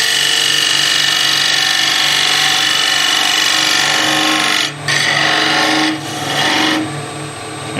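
A skew chisel cuts a spinning wood workpiece on a lathe with a steady, loud scraping hiss. It breaks off briefly twice as the tool lifts between passes, then resumes.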